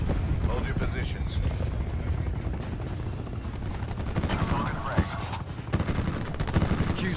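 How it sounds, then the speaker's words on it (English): Attack helicopter in Call of Duty on the Nuketown map, a loud rotor roar mixed with bursts of gunfire and explosions, with game voice callouts over it. "Attack chopper."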